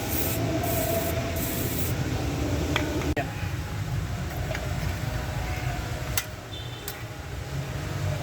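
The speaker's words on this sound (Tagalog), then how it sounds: "Spray." Steady hiss of a spray can over an Isuzu Crosswind gearbox and steering fluid leak repair, continuous and fairly close, with faint background rumble and occasional clicks.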